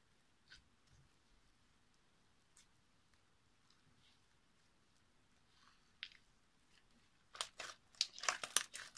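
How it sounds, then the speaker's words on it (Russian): Soft, squishy slime made with glue and activator being squeezed, mostly quiet at first, then a rapid run of wet clicking and popping sounds close up. "Слайм хорошо кликает"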